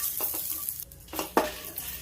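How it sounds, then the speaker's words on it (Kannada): Curry leaves, ginger, garlic and coconut frying in a pan, a brief close burst of sizzling with a few quick spatula scrapes and a sharper stroke midway, no one speaking. "ಹಸಿ ವಾಸನೆ ಹೋಗೋ ಗಂಟ, ಘಮ ಬರೋ ಗಂಟ ಚೆನ್ನಾಗಿ ಹುರ್ಕೊಳ್ಳೋಣ."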